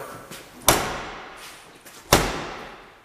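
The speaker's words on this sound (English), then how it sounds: "Nice tight slam, you know they're locked, you're good to go." Two sharp, solid slams of a storage compartment door on a 2019 Challenger 37FH motorhome, about a second and a half apart, close by, each a hard bang that quickly decays into quiet.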